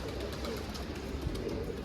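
A pigeon coos softly over a steady rushing background noise, faint and a little distant.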